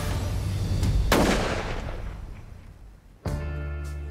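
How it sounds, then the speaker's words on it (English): A single sharp rifle shot rings out at a red stag while hunting in Patagonia, a loud crack followed by a long fading echo rolling through the terrain, then a brief rustle of movement. "pull the trigger"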